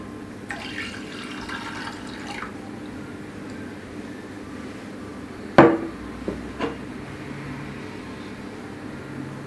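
Water poured from a tap into a saucepan for a sugar syrup in a home kitchen, a soft running splash early on, then a sharp metallic clank of the pan and a couple of smaller knocks, close and fairly quiet.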